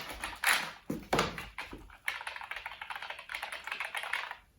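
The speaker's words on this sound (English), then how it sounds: "The keys don't feel great, but I'm used to type on the Model M, so it looks legit." Typing on the keyboard of an SGI Octane workstation: fast, close clacking keystrokes in bursts, with two short pauses early on and then a steady stream of taps.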